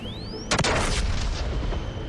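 A single heavy booming shot of gunfire in the video game Mass Effect 3, followed by a sustained rumbling roar under constant background noise, with no talk.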